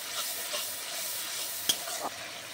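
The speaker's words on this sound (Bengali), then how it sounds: "মশলার সঙ্গে একটু লবণ দিয়ে ভালো করে আমি আবার একটু নাড়িয়ে দিচ্ছি" Spices and salt are stirred in a frying pan, giving a steady soft sizzle with a faint scrape of the spoon and one sharp clink, close and quiet with no talk.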